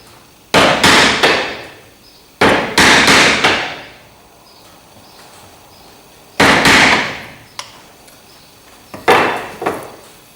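A homemade dart launcher released several times, each shot a sharp, loud crack with a brief rattling decay, close by, four main bursts spaced a few seconds apart with no talking.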